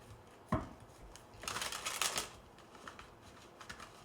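A deck of tarot cards is riffled and shuffled close by, with a short crisp snap followed by a longer burst of fluttering card noise and some lighter handling afterward, all fairly quiet.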